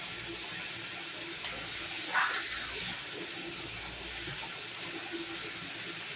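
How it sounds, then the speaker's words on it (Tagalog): Outdoors, water runs from a faucet into a bucket, making a steady close hiss and gush that swells briefly midway and continues without speech. "Ilagay tayo ng mga ano tubig sa balde para ano para malamig."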